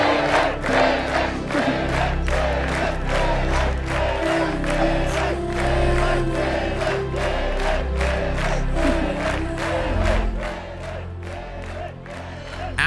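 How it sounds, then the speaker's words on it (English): A big football crowd in an open stadium roars and chants in loud, sustained waves, with rhythmic pulses of voices and cheering carrying across the field before easing near the end. "A standing ovation echoes across the field."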